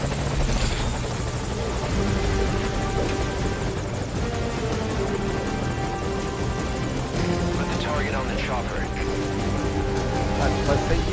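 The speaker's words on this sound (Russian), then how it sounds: "Не, давайте все-таки встречать вертолет." A helicopter in Metal Gear Solid V: Ground Zeroes drones steadily throughout, its rotor and engine hum loud and continuous, with faint game-like sounds layered over it.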